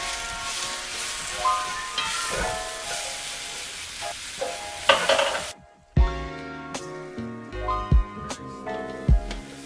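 Mushrooms sauté in a pan for chicken marsala, a dense sizzle with stirring through the first half, then quieter moments broken by sharp clanks of utensil against the pan.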